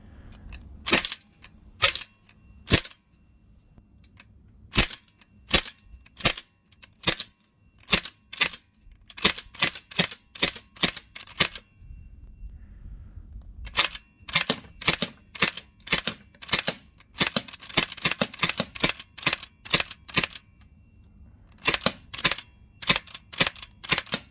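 An Umarex MP5K PDW 4.5mm CO2 BB gun fires shot after shot at a bottle, the sharp snapping pops coming singly and in quick bursts, close and loud over a quiet background.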